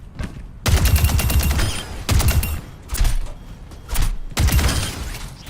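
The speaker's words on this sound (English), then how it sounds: "Soldier's gun sounds a bit heavier when you shoot it, almost like it came from an arcade" Soldier's weapon skin in Overwatch 2 fires in five rapid bursts of heavy, punchy automatic gunfire separated by short pauses, loud and close with no talking.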